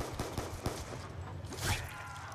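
Gunfire aimed at zombies in Black Ops 2 zombies mode, set in the Buried map: a string of sharp shots, several in the first second and more later, over a steady game-ambience background.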